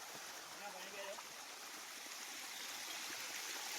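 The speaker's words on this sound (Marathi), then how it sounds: "तर आम्ही आलोय नैसर्गिक वॉटरफॉल लागलाय" A small natural waterfall on a mountain trek rushes in a steady, even wash of flowing water close by. No voices break the sound.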